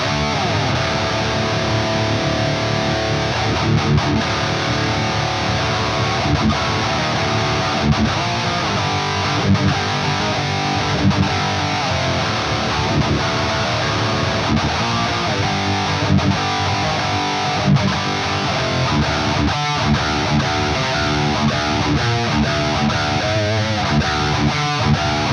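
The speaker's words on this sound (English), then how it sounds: "plug both of these in and see if they chug. That's all we're gonna do. High gain rhythm test tones only." Harley Benton electric guitars are played through a high-gain distorted amp, with steady chugging palm-muted rhythm riffs running loud and continuous for the whole stretch and no talking.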